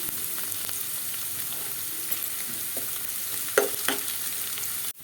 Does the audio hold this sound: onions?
yes